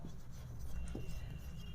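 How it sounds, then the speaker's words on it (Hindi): Pen or pencil scratching on paper while a formula is written out, a soft continuous close scratching with small strokes, quiet and alone. "सबसे पहले मैं इसमें फॉर्मूला समराइज करके लिख देती हूं"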